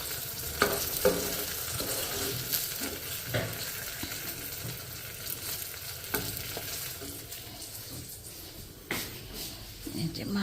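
Brinjal slices frying in a pan, a continuous low sizzle with stirring taps and scrapes, while people talk over it.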